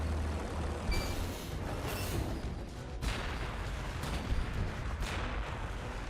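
Artillery fire in the strategy game Warhammer 40,000: Gladius booms at a distance, several separate thuds and blasts spaced a second or so apart over a constant low rumble.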